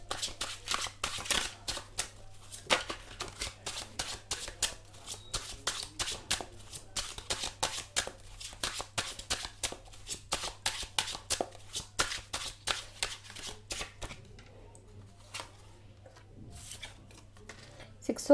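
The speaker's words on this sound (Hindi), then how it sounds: "मैं कुछ और कार्ड्स भी लूँगी।" Tarot cards shuffled by hand in a long run of quick riffling bursts and soft slaps, close and fairly quiet, easing toward the end over a low steady hum.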